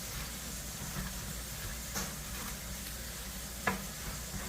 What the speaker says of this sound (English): I'm also going to get my cauliflower, my riced cauliflower, in a pan with a tiny little bit of water